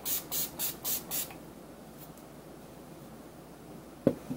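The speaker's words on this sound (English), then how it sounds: "And then you take your spray." An aerosol spray can fires five short, even hissing bursts in quick succession, then falls quiet apart from faint room noise, with a brief knock near the end.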